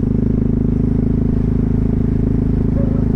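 Loud, steady motorcycle exhaust burble captured by a GoPro Hero 11 carried in a bag, a constant low pulsing drone with no wind noise, close and uninterrupted.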